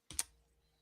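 A brief burst of computer keyboard typing, a few quick quiet clicks clustered near the start, then near silence.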